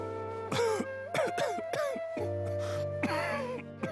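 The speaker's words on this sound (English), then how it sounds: "Oh no, don't cough. Are you okay?" A character in Genshin Impact coughs and gasps in a strained, wheezy series of bursts over a steady music bed, close up.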